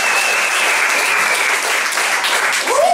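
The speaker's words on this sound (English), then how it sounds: "let's give a round of applause for that" A crowd at a live music performance breaks into steady, loud applause that lasts the full three seconds, with a faint whistle or cheer over it and a brief voice at the end.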